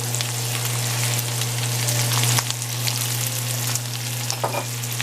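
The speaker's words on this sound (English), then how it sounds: "And I'm going to go ahead and add some onions to that." Onions frying in a pan for a pork stir fry make a loud, steady sizzle with occasional stirring clatter, close up, over a constant low hum.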